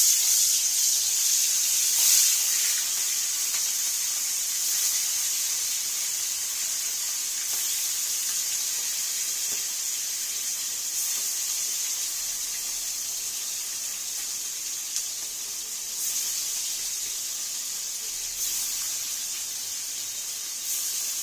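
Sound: hilsa fish frying in a pan

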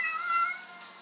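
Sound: cat meowing

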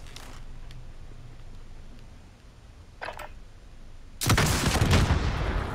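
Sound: rocket explosions and gunfire from a video game

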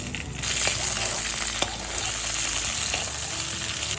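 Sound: broad beans frying in leftover mustard oil

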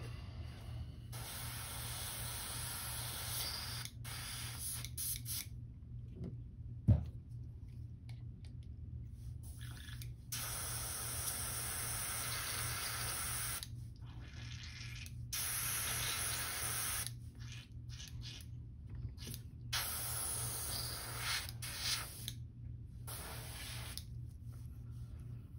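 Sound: airbrush spraying paint on a crankbait lure

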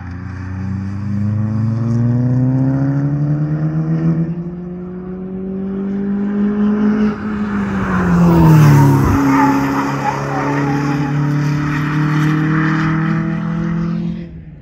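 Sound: Audi S3 car driving hard, tires skidding

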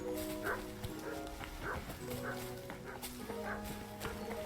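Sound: dog barking in Kingdom Come: Deliverance video game

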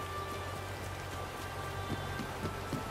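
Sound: rain in video game Disney Dreamlight Valley

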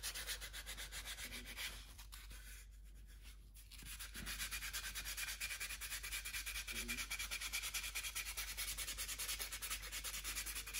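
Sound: finish sanding a carved wooden goldeneye drake

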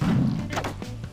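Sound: super slingshot shot hitting in a video game

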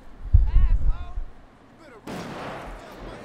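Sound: gunfire from inside favela in GTA 5 video game

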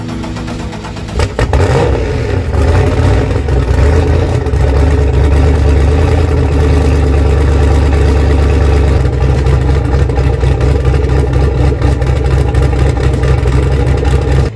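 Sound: cold start of a turbocharged 5.3 LS car engine

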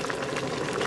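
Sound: water at a roiling boil

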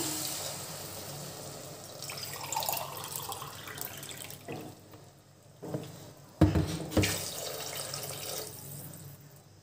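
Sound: water poured into a cooking pot

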